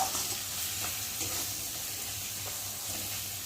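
Fried potatoes are tipped into hot oil for an egg curry, giving a continuous close sizzle and hiss with soft stirring, no voices.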